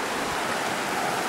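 Steady broadband rush of river water swollen by spring snowmelt, flowing loudly and continuously with no voices.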